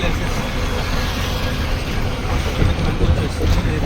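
An elevated metro train rumbles past close by, running alongside a flyover, in a dense, continuous roar of wheels and rushing air, with faint voices underneath.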